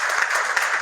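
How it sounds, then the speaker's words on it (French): Audience applause at a closing ceremony in Mali, a steady wash of many hands clapping together at moderate loudness with no voices over it. "Il s'agit tout d'abord de Awada, que je vous demande d'applaudir."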